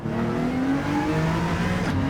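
A race car engine in Gran Turismo 7 holds at light throttle in first gear, a steady continuous hum with a faint rising harmonic drone, close and even, with no talking.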